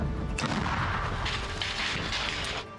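A 120 mm mortar fires close by in a combat zone near Pokrovsk, a heavy blast with a long rumbling roar that fills the whole moment before cutting off.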